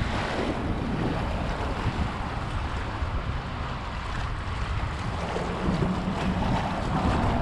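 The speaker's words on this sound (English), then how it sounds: "A lot of boats out here." Boats out on the Atlantic Ocean off Jupiter, Florida, heard as a continuous broadband wash of engine drone, water and wind buffeting the microphone, fairly distant and steady with no talk.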